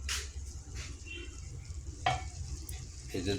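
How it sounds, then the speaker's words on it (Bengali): Water poured into a hot kadai just used for frying coral or bhetki fish sets off a burst of hissing sizzle, with a few sharper splashes and crackles over a steady frying hiss. "এই যে কড়াইতে মাছ ভাজি করছি ওই কড়াইতে আমি পানিটা দিয়ে দিছি।"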